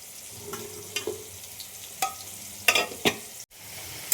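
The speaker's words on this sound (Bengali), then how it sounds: "আবার এখন যতক্ষণ এই আলু টালু ভাজা হচ্ছে" Potatoes frying in oil in a pan at home while mutton curry is cooked, giving a soft steady sizzle with several sharp clinks and scrapes of a spatula against the pan, close and without talk.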